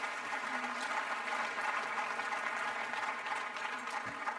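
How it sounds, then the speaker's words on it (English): Applause from the audience at a COP28 climate action session, a steady, moderately distant clapping that holds evenly throughout. "And you hear the round of applause."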